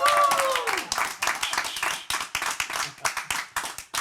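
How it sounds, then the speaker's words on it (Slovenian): An audience applauds in a studio, a dense burst of clapping that thins into scattered, rhythmic hand claps. "Lep aplavz za gospoda Žerjala."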